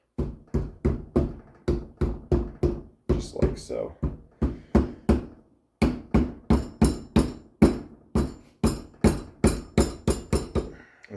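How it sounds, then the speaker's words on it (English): A rubber hammer taps an axle seal into its bore on a Yanmar 2420D tractor, delivering steady, evenly spaced close blows in quick bursts with a brief pause midway, while a person speaks briefly. "We're just going to kind of use a rubber hammer, just gently work it down in here until it's flush"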